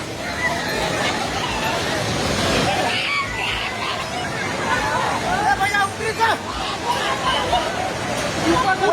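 A steady, loud roar of a flooded river rushing in Nepal fills the whole stretch, with excited voices shouting and talking over the torrent.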